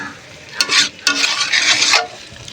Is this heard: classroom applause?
no